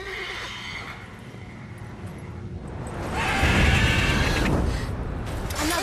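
A mare neighs loudly in The Witcher 3, a long whinny ringing out over ambient game sound, with a heavier rumbling swell partway through.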